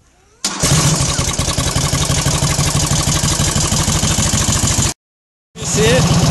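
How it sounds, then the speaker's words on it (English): A 1948 Indian Chief motorcycle with a remote-controlled electric starter fires up and runs with a loud, close, rapid thumping beat, cuts out abruptly to silence, then starts again. "To start your Indian Chief, you turn the ignition key"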